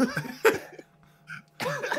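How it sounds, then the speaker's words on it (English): A man coughing a few times at close range on a podcast recording, short harsh bursts with quiet gaps in between and a chuckle-like sound at the end. "Oh god, got a bit of a cough."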